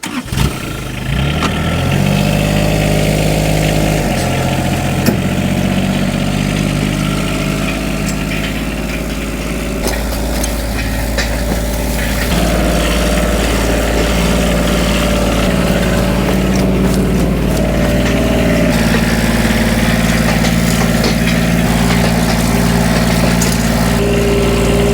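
Tractor engine idling and pulling forward steadily while a Burge bale unroller peels a cattle bale across the ground, a loud, continuous low drone with slight rises in revs throughout, no talking.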